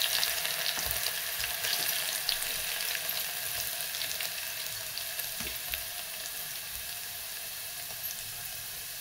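Chopped garlic with cumin seeds sizzles steadily in hot oil while cooking a drumstick and lentil curry, a constant close crackling hiss with faint spatters, no talking.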